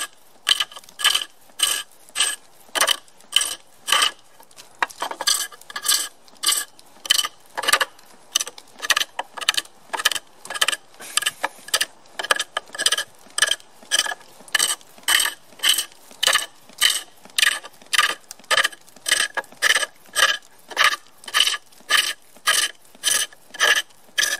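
Wood turning on a pole lathe, a chisel taking small shavings from a spinning billet: steady rhythmic ticking and scraping strokes repeat about once a second, close and fairly loud, with no voices.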